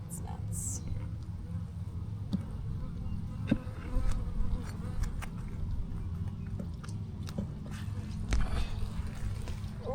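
Honey bees buzz faintly during a beehive inspection, a soft, continuous insect hum over a low background drone with a few small handling clicks.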